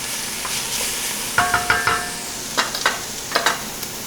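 Spoon stirring through a hot pan of sizzling aromatics for a bolognese sauce, with a steady frying hiss under a series of sharp scraping strokes clustered in bursts, close and fairly loud.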